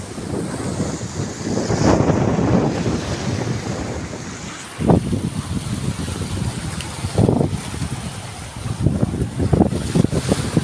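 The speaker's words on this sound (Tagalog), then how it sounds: "Sisimula naman yung amihan dito." Amihan, the northeast monsoon wind, blows across the sea at sunset, steady rushing wind noise and lapping water with gusts that swell and ease, loud and close on the microphone.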